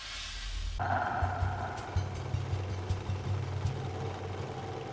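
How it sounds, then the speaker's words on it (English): A wood chipper's noisy diesel engine idles in the BloodRayne video game, a low, steady chugging rumble that starts abruptly and runs on evenly with faint rhythmic knocks. "Why does this wood chipper need to have a noisy diesel engine?"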